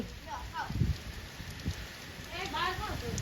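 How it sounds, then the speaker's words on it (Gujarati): Rain falling steadily during a storm in a village, a soft continuous patter with scattered low thumps, heard under occasional voices. "અટાણે ચાલુ વરસાદ ને ચાલુ વાવાઝોડો"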